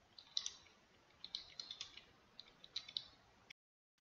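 Rapid, light clicks of typing on a computer keyboard while entering a book record in a data grid, delivered in short irregular bursts at close range and fairly quiet, ending abruptly in silence.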